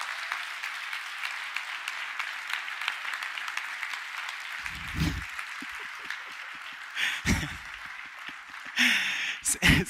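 Audience at the Nordic Game Awards 2018 applauding sponsors, a steady wash of clapping from a large crowd in a hall, with brief voices breaking in near the end.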